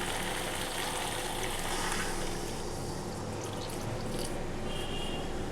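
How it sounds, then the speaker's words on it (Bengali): Hot water pours steadily from a container into a cooking pot of potato curry (alur dom), a continuous splashing liquid wash that runs evenly throughout, fairly close, with no voices. "আমি জলটা গরম করে নিয়েছিলাম আমি এবার একটু ঢেলে দিচ্ছি এতে"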